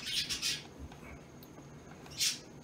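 Shoreline birds call near a tidal fishing area: a pair of brisk squawks open the stretch, then a quieter gap, then one more sharp call near the end, with no speech.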